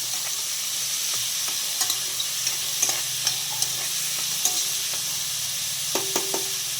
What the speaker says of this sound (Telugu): ఆ జీడిపప్పు మష్రూమ్స్ కలిపి వేపాలి.